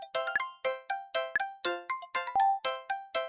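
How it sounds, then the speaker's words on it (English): Ancient Chinese bronze bianzhong bells are struck in a steady sequence of about a dozen clear metallic strikes, each ringing briefly with bright overtones before decaying, with no voices. "It's A, musical bells."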